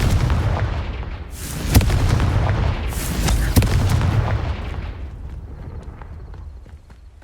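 Confringo fire spell blasts in Hogwarts Legacy on hard difficulty, with two sharp booming impacts over a rolling, rumbling din that fades toward the end.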